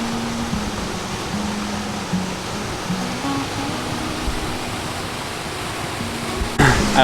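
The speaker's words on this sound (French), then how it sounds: "Vous entendez un petit peu là? Ça, c'est la cascade." Steady broadband rush of a waterfall at a crowded scenic spot, continuous and fairly loud for the whole stretch, with a brief louder burst of handling or wind noise near the end; no talking.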